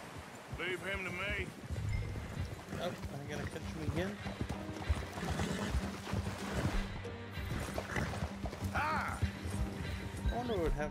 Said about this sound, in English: If I shoot his horse with an arrow.